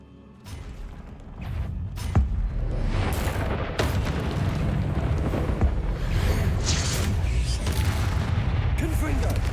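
Loud magical blasts and booms from a Confringo explosive spell in Hogwarts Legacy, with an initial impact followed by sustained rumbling, crackling fire and combat noise, plus a voice casting spells.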